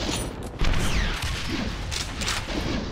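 Gunfire from the first-person shooter Doom II, a rapid burst of loud shots and blasts crackling over a noisy game soundtrack.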